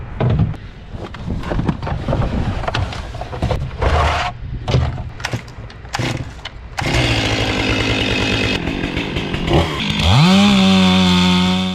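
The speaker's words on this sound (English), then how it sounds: "last little bit of this job is going to be on another saw" A chainsaw cuts through a fringe tree, its engine sputtering in short bursts at first, then running steadily at high revs and climbing in pitch near the end, loud and close with no talking.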